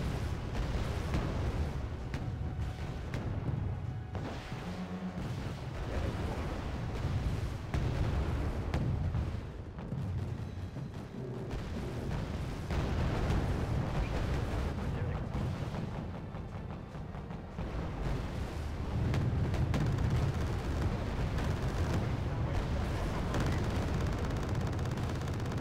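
Naval cannon batteries firing in the strategy game Wargame Red Dragon, a continuous barrage of deep booms and rumbling blasts layered over one another, heavy and sustained throughout.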